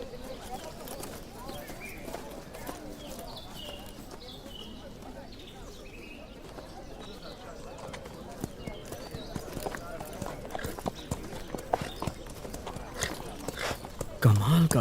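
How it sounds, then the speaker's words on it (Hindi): Horse hooves clip-clop steadily through a dubbed historical drama scene, the rhythmic hoofbeats mixed with background ambience and a few bird calls, growing busier and louder toward the end. "कमाल का घोड़ा है।"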